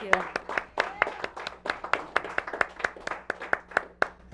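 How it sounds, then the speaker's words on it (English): Small audience at a year-end show claps in distinct, evenly spaced beats, a thin, rhythmic round of hands rather than a dense ovation, with a brief voice heard right at the start. "And one more time, a round of applause for this young lady."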